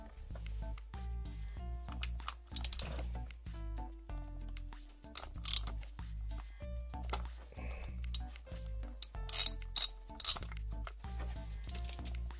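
A ratchet fitted with a Torx 40 bit clicks in short, close bursts while undoing the bolt of a position sensor on a Mercedes engine during oil cooler work, with quiet gaps and faint metallic handling between turns.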